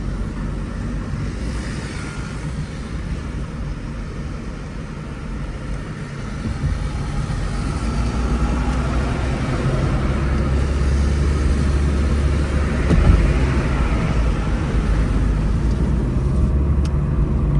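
Steady low road and engine rumble fills the cabin of a Toyota Corolla with a 1500cc CVT conversion while driving, windows up, a continuous hum with no talking.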